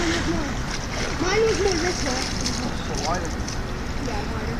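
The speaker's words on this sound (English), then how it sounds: "He made a higher splash, but yours looks like it had more volume to it." A splash from someone jumping into a backyard pool, a brief watery burst heard under children's voices and chatter close by.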